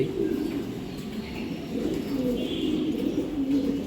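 Racing pigeons cooing softly and steadily close by, low repeated coos with faint chirps in the background, no clear talk.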